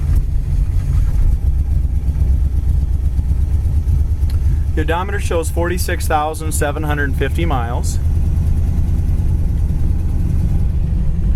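1956 Mercury Montclair V8 engine idling with a steady low rumble and a slight sputter, heard close and continuous while someone speaks briefly over it.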